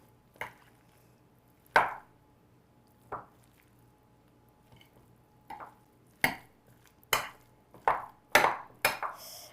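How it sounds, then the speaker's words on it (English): A spoon works through a thick filling of cream cheese, sun-dried tomatoes and pine nuts in a bowl, making sharp taps and squishy knocks that come slowly at first and then more often. "let's give this a stir"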